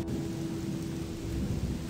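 Steady rain and rolling thunder from the video game Odyssee form a continuous dense rumble and hiss throughout, with no talk.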